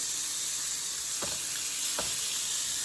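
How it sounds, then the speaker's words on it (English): Chicken wings sear on high heat in a crowded pan with a steady, bright sizzle and hiss, a couple of soft knocks of a utensil, close up. "We're searing them on high heat."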